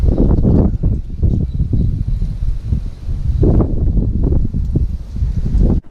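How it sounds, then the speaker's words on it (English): Strong wind blows outdoors on a blustery day, buffeting the microphone with a continuous loud, low roar that rises and falls in gusts throughout. No voice is heard. "it's a windy ass shitty bloody day out here today"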